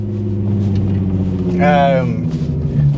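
Nissan Skyline R32 driving fast over open moorland, a loud steady engine drone with a rising rev whine in the middle, close and continuous, heard from inside the car.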